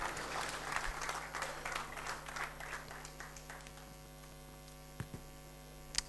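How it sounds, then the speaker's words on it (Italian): An audience at a sports awards ceremony claps in a dense burst that tapers off over a few seconds, leaving a few isolated claps against a steady electrical hum. "lo accogliamo con un grossissimo applauso"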